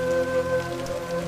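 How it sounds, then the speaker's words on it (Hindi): Heavy rain pours steadily in a cartoon scene, a dense close hiss of falling drops with a sustained musical tone running underneath and no speech. "वैसे भी तेज बारिश हो रही है"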